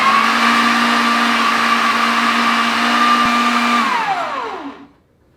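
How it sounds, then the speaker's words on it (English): A motorised meat grinder works pork for sausage with a loud, steady electric whine that holds even, then winds down and stops, alone with no talk. "I'm not going to bore you with grinding all of this because it takes a while"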